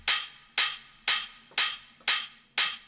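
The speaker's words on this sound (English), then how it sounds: "We've then got this open hat with reverb from that same send channel" Six evenly spaced open hi-hat hits, each a bright sizzling burst that decays into a reverb tail shared with the clap, heard alone in an Ableton dance track production.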